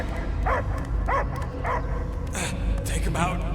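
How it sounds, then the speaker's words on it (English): A dog barks and yips in Marvel's Guardians of the Galaxy video game, several sharp barks in a steady rhythm, close and loud over a game soundscape, with voices nearby. "I hear only barking."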